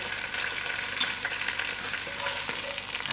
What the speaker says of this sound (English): I'll allow this to fry a little.